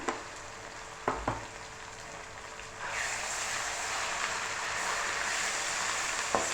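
Ginger garlic paste frying in oil with fish over a medium flame: a few sharp clatters at first, then a loud, steady close sizzle that swells and holds to the end.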